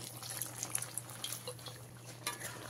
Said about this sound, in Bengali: এক্সট্রা আর একটু অল্প জল দিয়ে দিচ্ছি।